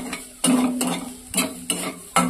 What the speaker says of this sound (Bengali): এটা সুন্দর করে ভাজা হতে থাকুক।